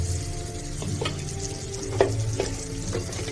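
Green chili, Kashmiri chili powder and spices frying in a pan as bathua greens are cooked, with a steady close sizzle and a few sharp scrapes and knocks of stirring.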